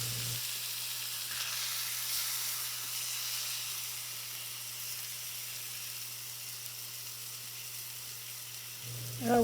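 A steak sears in a hot pan with a steady, even sizzle that holds for several seconds at moderate loudness, ending in a brief clatter.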